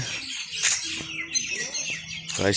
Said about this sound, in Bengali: বললাম একটু রাস্তায় রাস্তায় যে পাখিতে ডাকাটাকি করতেছে